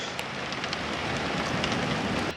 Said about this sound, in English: Now it's hailstones.